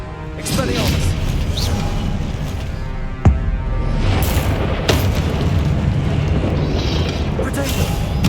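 Spell blasts and booming impacts in the video game Hogwarts Legacy, dense continuous combat rumble with a few sharp cracks, loud and close while a voice shouts.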